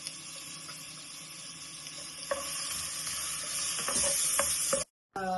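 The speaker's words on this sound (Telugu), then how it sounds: "కాగినాక ఆనియన్ వేసుకొని బాగా వాడించుకోవాలి." Onions sautéing in melted butter in a pan, a soft continuous sizzle with occasional light stirring clicks, ending in a brief cut to silence.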